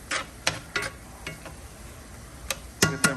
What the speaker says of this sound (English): We got the onions, serranos, going in the pan. We're gonna saute them